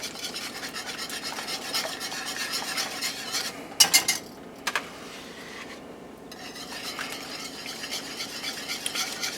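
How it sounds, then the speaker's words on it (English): Sour cream being stirred into Swedish meatball sauce, a steady scraping and rubbing of a spoon around the pan with a few sharper clinks partway through, close and continuous with no talking. "add the sour cream. I'm going to stir that in real good"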